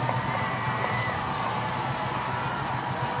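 A football crowd fills Jordan-Hare stadium on a fourth down, roaring in a dense, steady wash of cheering and shouting with no breaks.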